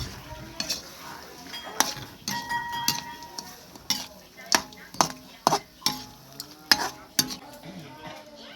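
Bamboo shoots and fresh meat stir-fry in a pan with a soft sizzle, punctuated by a quick series of loud metallic scrapes and clanks from the spatula striking the pan.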